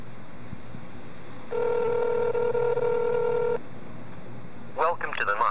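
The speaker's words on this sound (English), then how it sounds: "I'm going to go ahead and call that number again." A mobile phone emits a steady two-second ringback tone on a call, loud and close. It gives way to a brief burst of speech near the end.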